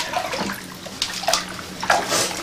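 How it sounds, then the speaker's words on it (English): Water in a bubble bath sloshing and bubbling in a bathtub, with soft splashes and a few brighter bursts over a gentle, close watery background. "the best way to relax is a nice bubble bath, bubbling away"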